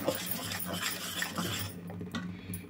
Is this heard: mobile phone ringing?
no